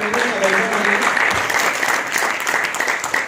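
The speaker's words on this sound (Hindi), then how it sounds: "इनके लिए जोरदार तालियां" Loud audience applause fills the space throughout, a thick continuous wash of many hands clapping at once with no pauses, steady and close for a few seconds.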